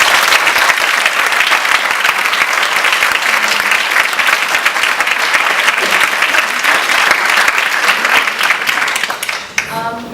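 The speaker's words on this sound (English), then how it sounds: "Can I please have a round of applause?" A crowd at an awards ceremony claps loudly and steadily for about ten seconds, the applause fading slightly at the very end.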